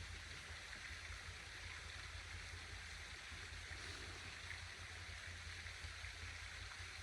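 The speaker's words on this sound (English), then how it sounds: "You might hear the fountain that is next to me, the water gently splashing" An outdoor water fountain splashes gently and steadily, a soft continuous wash of falling water with no pauses, faint and calm, with no voices over it.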